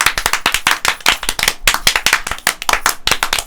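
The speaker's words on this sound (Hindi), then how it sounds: "तो ताली मार दो ना।" A small group claps rapidly and unevenly, sharp close hand claps in a dense burst lasting a few seconds.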